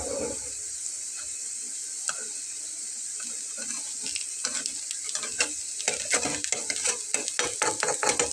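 Masoor dal batter frying in oil in a pan for a Bengali breakfast snack, with a steady sizzling hiss and scattered clicks of a spatula turning it. The clicks grow busier toward the end, and no one speaks.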